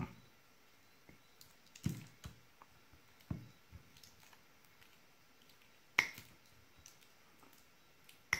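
Sharp snips of a cutting tool severing the wires of an ARRIS BPB044S cable modem battery one at a time, a few crisp isolated clicks spaced seconds apart against a quiet background.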